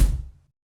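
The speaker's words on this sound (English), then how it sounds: "we can also add a thump to add a bit more mid-range" A single kick drum thump sample, a short, punchy low hit with a bit of upper click that dies away within half a second.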